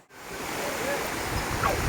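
Water rushing steadily along a stream bed in the grounds of a hillside temple near a waterfall, a broad continuous wash that swells slightly toward the end, heard close with no talk.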